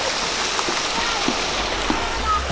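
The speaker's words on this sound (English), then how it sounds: "I mean, that's not that big of a waterfall." A small waterfall at Pocheon Art Valley gives a steady, moderately loud rush of running water with a broad hiss and no pauses, and faint splashing sits within it.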